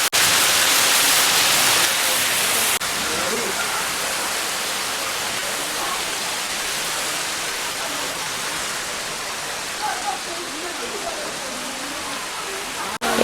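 An artificial waterfall in Kotgarh park pours with a constant, broad rushing roar of water that fills the whole scene, with faint voices now and then beneath it.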